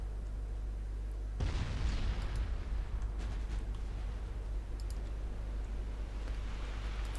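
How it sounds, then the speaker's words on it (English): Torpedo explosion against a warship in a 1930s naval battle game, a sudden loud burst followed by a long rumbling roar and scattered distant booms over a steady low drone. "torpedoes are striking home"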